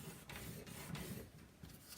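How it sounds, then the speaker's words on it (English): Paper trimmer scoring a 3 by 8 inch piece of cardstock, a close, steady scraping rub running through the whole two seconds with a few brief stronger strokes, no talking. "on the trimmer, this does the scoring."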